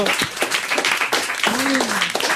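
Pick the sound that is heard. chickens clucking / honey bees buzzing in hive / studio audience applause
studio audience applause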